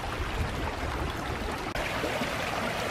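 Rainwater after a heavy rain running down a hillside in Iroquois Park, a steady close rushing flow with no break, heard alone.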